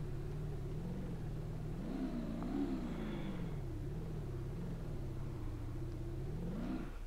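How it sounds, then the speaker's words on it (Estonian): A car engine in BeamNG Drive, in a winter rally, holds around 3000 RPM with a muffled, quiet drone that rises and falls steadily, continuous throughout with no speech. "Kui 3000 RPM juures teeb auto nii vaikselt häält"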